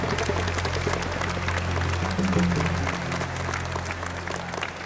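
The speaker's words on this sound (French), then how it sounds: "veuillez accueillir, par vos chaleureux applaudissements, le très talentueux" Applause from an audience welcoming a performer onto a stage, a steady dense wash of clapping throughout with a low musical hum underneath.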